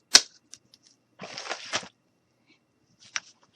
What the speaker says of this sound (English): So we're going to take our can tab, and we're just going to cut off a little bit.